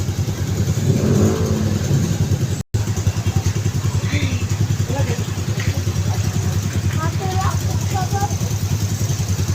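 Busy street traffic in Consolacion, with cars and motorcycles droning and revving steadily nearby, and a person talking over the engine noise.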